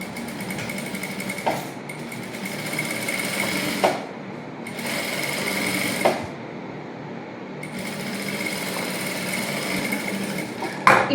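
A sewing machine stitches lining onto the fabric of a princess-cut blouse, running in long steady stretches of rapid needle chatter broken by brief pauses, close and fairly loud.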